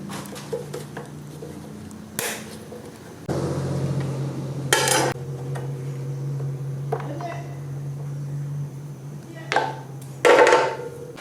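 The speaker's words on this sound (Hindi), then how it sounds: "और अभी मैं इसके ब्रशेस को खोल के दिखाता हूँ।" Small plastic clicks and metallic taps ring out as the carbon brush caps are opened on an eight-year-old Bosch GCO220 chop saw, with a few louder scraping handling bursts and a low steady hum between them.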